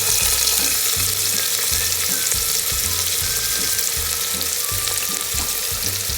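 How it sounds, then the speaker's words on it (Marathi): Finely chopped onion frying in oil with popped mustard seeds and cumin, for village-style chicken kharda, a loud, close, continuous sizzle with low thumping stir strokes at a loose, uneven rhythm and no talk. "इथं मोहरी तडतडली आहे, त्यात जिरं टाकूयात आणि हा कांदा जो आहे चिरलेला बारीक तो त्यात टाकते"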